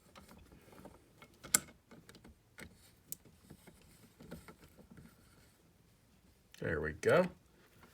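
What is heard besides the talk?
small tool tightening threaded part of a single-lever faucet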